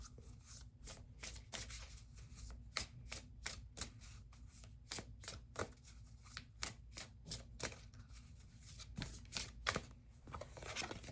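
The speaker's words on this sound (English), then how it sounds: "Some cards are jumpers," Tarot cards are shuffled by hand in quick repeated riffles and soft slaps, a close, quiet flurry of crisp card noises with no talking.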